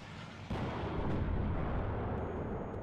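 Conqueror tank cannon firing at an Abrams in the strategy game WARNO, a single heavy boom at the start followed by a long rumbling roar that slowly fades.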